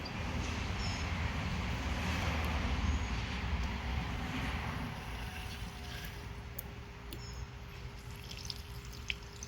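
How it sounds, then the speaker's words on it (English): Electric fuel pump of a 1987 Toyota 4Runner with a 22RE engine runs steadily, a continuous low whirring hum close by with faint ticks and drips throughout, no talking. "let's see if I can just kind of bump that fuel pump"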